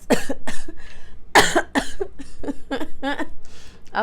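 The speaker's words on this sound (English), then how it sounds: "laughing, so I'm coughing" Repeated harsh coughing bursts, close and loud, coming in uneven fits across the whole stretch with short gasping pauses between them.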